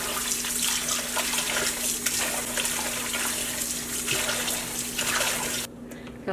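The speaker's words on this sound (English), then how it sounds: "you want to clean with cold water so your daikon is nice and crispy" Cold tap water runs steadily over daikon radish being rinsed in a sink, a loud continuous splashing stream that cuts off near the end.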